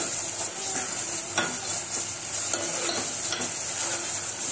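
Ground masala paste roasts in hot oil for katachi amti while a spoon stirs it, a continuous bright sizzle broken by regular scraping strokes against the pan, close and loud with no talking.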